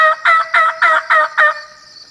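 Wild turkey gobbling in spring, six quick loud rattling pulses in an even rhythm, close and clear, ending in a thin trailing note.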